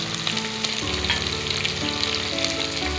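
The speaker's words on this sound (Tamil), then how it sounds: "கருவேப்பிலை எல்லாம் சேர்த்து நல்லா ஒரு கலர் கிளறி விட்டுக்கலாம்" Onions, green chilies and curry leaves sizzle steadily in hot oil for rava upma, with a continuous close frying hiss and scattered soft scrapes of stirring.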